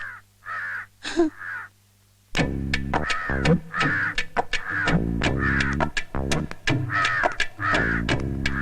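A crow caws in a Malayalam comedy film scene: a couple of harsh calls, a short pause, then a long run of loud, rapid caws close by.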